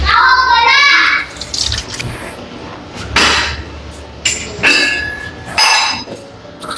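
Food being washed under running water, with splashing and gushing from a tap mixed with clinks and knocks of handling in a kitchen, loud and close.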